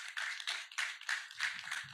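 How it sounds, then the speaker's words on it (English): Applause from a small audience at an entrepreneurship policy dialogue, a brief patter of clapping with uneven bursts. "a round of applause for Faith Foundation"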